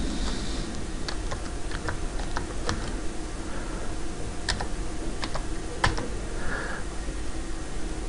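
Typing on a computer keyboard, with irregular bursts of light, close clicking keystrokes over a quiet background hum and no voices.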